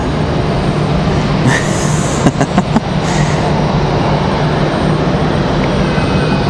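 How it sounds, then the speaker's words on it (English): A Delta Airlines Airbus A320 jet on the move at Raleigh Durham International Airport gives a loud, steady roar of engine noise that fills the whole stretch, with a few faint clicks and rattles nearby. "Alright, so our A320 on the move for Delta Airlines."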